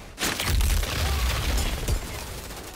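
Gunfire and booming impacts from the sci-fi shooter video game Outriders, a loud sustained burst of shots and low rumbling blasts that starts abruptly and continues throughout.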